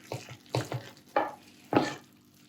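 Creamy mushroom risotto with cheese stirred in a pan, five soft wet squelching strokes spaced irregularly, close and fairly quiet with no talk.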